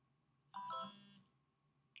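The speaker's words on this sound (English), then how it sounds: "Sorry, that's my phone." A single short phone ringtone chime sounds close and clear over a quiet room, cutting off after about half a second.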